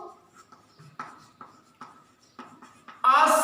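Writing on a surface, likely chalk or pen, in steady repeated strokes about every half second, close and fairly clear, with a burst of a voice right at the end.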